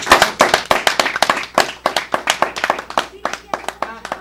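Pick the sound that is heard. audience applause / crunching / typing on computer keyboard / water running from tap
audience applause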